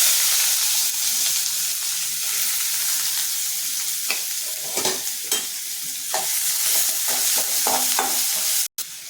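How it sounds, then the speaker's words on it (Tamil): Steady loud sizzling of chopped large onions frying in hot oil in a pan, with occasional stirring clatters and a brief pause near the end. "பெரிய வெங்காயம் ஒன்று நறுத்தி வச்சுருக்கேன் அதை போட்டுக்கிறேன்"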